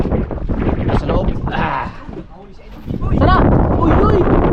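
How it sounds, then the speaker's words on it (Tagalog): Strong wind buffets a small fishing boat at sea, roaring steadily and loudly across the mic with heavy gusts, while several people talk and shout over it. "Mahangin kasi."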